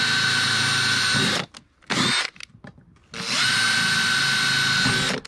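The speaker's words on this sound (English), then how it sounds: "But the drill is much easier." A power drill whines as it bores through a cheap plastic mop bucket softened by the heat. Two sustained, loud bursts are heard up close, separated by a short pause filled with faint handling noise.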